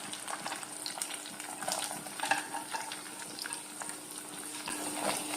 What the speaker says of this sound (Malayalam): ഇതിലേക്ക് നമ്മൾ ക്യാരറ്റ് അരിഞ്ഞു വെച്ചേക്കുന്ന ക്യാരറ്റ് ഇതിലേക്ക് ഇടാം